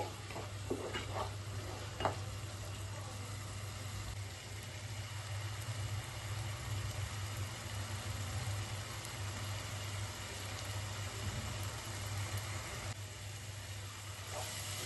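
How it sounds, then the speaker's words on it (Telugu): Ingredients for tomato rice fry in a pan for a few minutes, giving a steady low sizzle with occasional stirring clicks and a constant hum underneath. "ఇవన్నీ పచ్చివాసన పోయే వరకు ఒక 3 మినిట్స్ మంచిగా వేయించుకోవాలండి"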